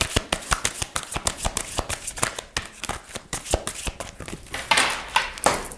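Tarot cards are shuffled by hand in quick, crisp riffling bursts, close and fairly quiet, with a rapid irregular rhythm and a brief denser flurry near the end.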